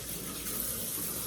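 Tepid water running steadily from a kitchen tap while pizza dough is being made, a continuous close hiss and splash that stays alone, with no talk.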